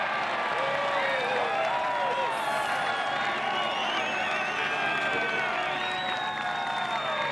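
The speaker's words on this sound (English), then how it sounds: "Great ovation from the local crowd here." A local golf gallery at the WM Phoenix Open bursts into sustained applause and cheering with whoops and shouts after a made putt, a dense, continuous ovation from a large crowd.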